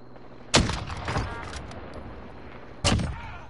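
Gunfire in the shooter Warzone: two sharp, loud shots about two seconds apart, each with a short booming tail, and a few fainter pops and thuds in between.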